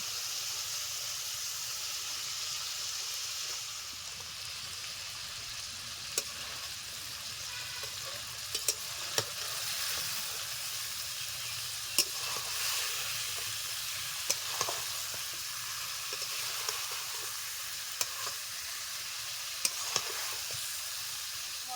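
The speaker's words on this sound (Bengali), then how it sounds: "তেল ছেড়ে দিয়েছে ভেজে রাখা মাছগুলো মশলার উপরে দিয়ে দিচ্ছি" Fish already fried sizzles and crackles in hot oil with spiced masala in a pan while a tel jhal fish curry is cooked, a steady close hiss with faint clicks of stirring throughout.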